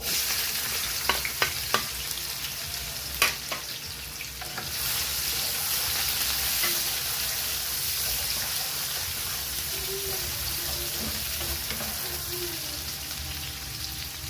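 Onion and garlic frying in oil in a pan, with a steady close sizzle throughout and a few scraping stirs and clinks near the start.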